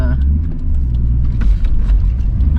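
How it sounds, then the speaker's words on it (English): Loud MK3 Toyota Supra engine rumble with a rising whine as the turbo spools up, building steadily over a couple of seconds. "you can hear the turbo spool up"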